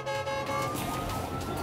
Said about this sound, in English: they're under lights and sirens